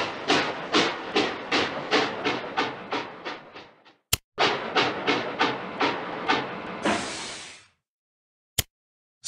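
Cartoon trains, each with seven sections, roll along the tracks in a steady rhythm of repeated clickety-clack bursts that slow and fade, then resume with a closing hiss, broken by sharp clicks.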